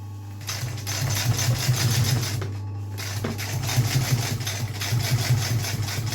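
Sewing machine stitching a decorative top onto a leather horse collar, running steadily and loudly with a constant low motor hum and rapid rhythmic needle chatter, pausing briefly midway before resuming.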